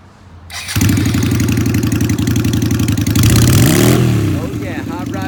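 A 2008 Yamaha V Star 250 lightweight cruiser motorcycle starts up close by, settling into a loud steady idle before a few quick revs rise and fall, then easing back down.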